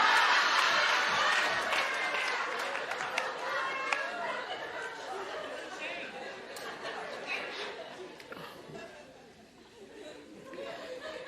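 Scattered clapping rises in a television talk show studio audience amid chatter and light laughter, fairly close, with a steady murmur of voices underneath.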